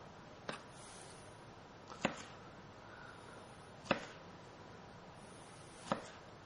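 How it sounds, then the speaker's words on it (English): Knife on a cutting board slicing okra into quarter-inch rounds, four sharp separate chops spaced about one to two seconds apart, close and clear over a quiet room. "And then I cut about 1/4-inch slices on the okra."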